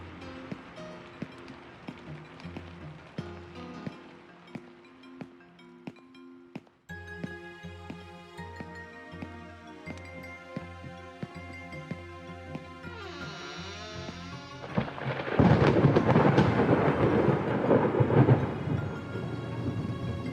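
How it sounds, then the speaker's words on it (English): Rain falling outside a window inside an Unreal Engine 5 game, a steady wash under music and tones that swells much louder near the end as the window is approached. "the rain will get louder."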